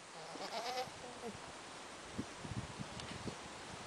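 Hungry goats bleating outdoors over steady wind and rustling, a brief wavering bleat early on followed by scattered thumps and shuffling noises, fairly distant and low in level.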